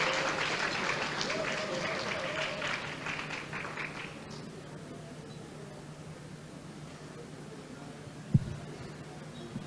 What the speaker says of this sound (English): We like the clapping, more clapping.